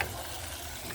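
Dried loitta fish bhuna frying on low heat in a pan: a steady, close sizzle and faint stirring that carries on without a break, with no voices.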